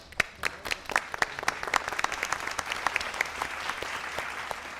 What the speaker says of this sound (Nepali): डिओडी गोर्खाज र बकर्सको लागि एकचोटि जोरदार ताली।